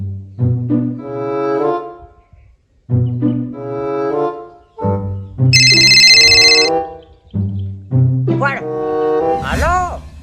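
A phone ringtone bursts out as a bright electronic melody for about a second midway, with people talking loudly before and after it in a lively domestic comedy scene.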